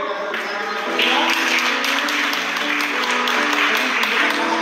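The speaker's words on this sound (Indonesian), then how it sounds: "berikan tepuk tangan yang meriah" Clapping at a wedding ceremony under music, with sustained tones and a voice running beneath a steady patter of hands.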